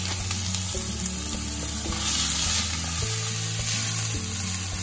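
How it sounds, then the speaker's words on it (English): Peppers sizzling and frying steadily in hot coconut oil in a pan at a cold tent campsite, a dense continuous crackle heard up close over a low background hum, with no talking. "is some coconut oil in the pan, all hot, and some peppers and onions"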